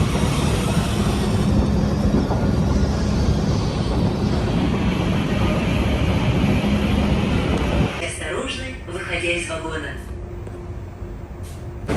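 Moscow metro train rumbling loudly through a station for about eight seconds, then cutting off to quieter, echoing platform ambience with scattered clatter.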